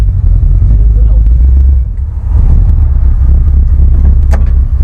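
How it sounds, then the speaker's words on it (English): An engine idles steadily close by in a garage setting, a loud low rumble that stays constant throughout, with people talking faintly over it. "Sounds like a little pickup truck."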